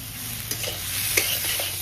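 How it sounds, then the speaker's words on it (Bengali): Potatoes fry in a pan over a clay stove, making a loud, constant close-up sizzle with a couple of soft utensil scrapes and no speech. "লাল হয়ে গেছে, মানে আলুগুলো ভাজতে ভাজতে লাল হয়ে গেছে।"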